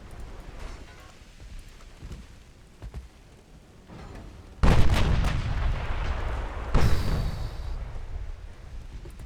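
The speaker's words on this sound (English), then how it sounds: "That was a main ammo blast." A warship's main ammunition blowing up in the naval video game Ultimate Admiral: Dreadnoughts, a sudden heavy booming blast followed by a second loud burst and a rumbling roar that lingers.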